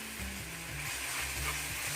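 Cumin, coriander and garlic paste fry in a hot pan, giving a steady, close sizzle that hisses evenly from start to finish.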